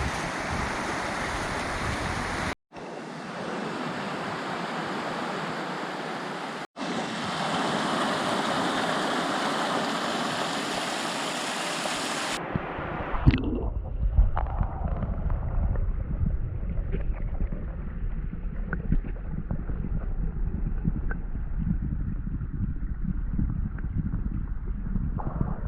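A river runs beside a hiking trail on the Little Carp Loop, its broadband rush steady and fairly loud. A louder, wind-buffeted stretch gives way to calmer, closer flowing water with no talk.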